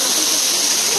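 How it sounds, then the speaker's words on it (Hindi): A waterfall at a Nainital viewpoint: a brief, loud, continuous roar of rushing water, close and steady. "ये है एक्चुअल में वाटरफॉल।"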